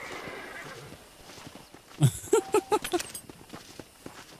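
A horse in the Red Dead Redemption video game neighs loudly and close, a sharp whinny followed by a quick series of stuttering snorts, over quieter hoof clops and background game ambience.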